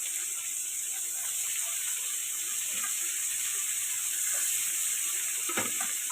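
Onions and potatoes fry in a pan, the base for a spicy crab curry. A steady, close sizzle runs throughout, with a few faint stirring clicks.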